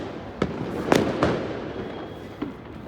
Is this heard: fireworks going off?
yes